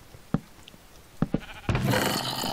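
A sheep in the block-building game Minecraft gives a few short bleats, sharp brief calls spaced apart, followed by a louder burst of game noise, all close and without speech.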